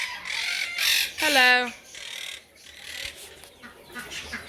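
Baby Indian ringneck parrots being handfed give short raspy calls and one rising squawk, heard close and loud amid scattered chirps, with a person speaking briefly in between.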